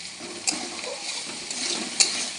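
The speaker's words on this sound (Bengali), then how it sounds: "তাই এইভাবে আমি পেঁয়াজটা ভাজতে থাকবো, ব্রাউন কালার হওয়া অবধি আমি এটাকে ভাজবো।" Onion frying in hot oil in a pan, a steady close sizzle with occasional soft stirring scrapes and a couple of brief clinks, no talk.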